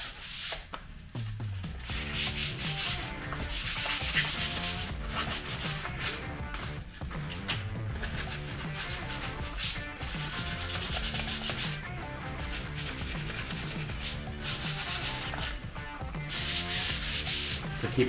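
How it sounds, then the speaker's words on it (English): Wood rasp shaping a wooden axe handle by hand, a sustained rough rubbing and scraping in repeated strokes, close and fairly loud with no talking. "Keeping the rasp off the shoulder allows us to make sure that there's not a bunch of scoring."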